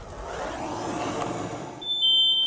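A steady rushing hiss of a kitchen fire fills the space, then a piercing high smoke alarm tone starts near the end and holds.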